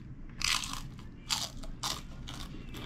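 Crispy fried chicken skin chicharon is bitten and chewed up close, giving four loud crunchy bursts in an uneven rhythm.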